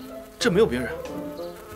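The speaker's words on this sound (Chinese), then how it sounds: "是蜜蜂。" A bee buzzes close by in a short burst of rising and falling drone, along with a brief spoken line.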